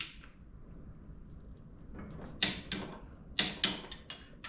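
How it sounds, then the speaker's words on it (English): A torque wrench set to 60 foot-pounds clicks while bearing cap bolts are tightened on a Dana 30 axle. A few sharp metallic clicks, two in quick succession, sound close over a low background hum. "now what we're going to do is we're going to torque the bearing cap bolts"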